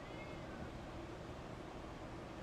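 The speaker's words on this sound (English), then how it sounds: "We got meowing and sneezing." A cat meows softly over a steady broadband background hiss, the cry faint and partly buried in noise.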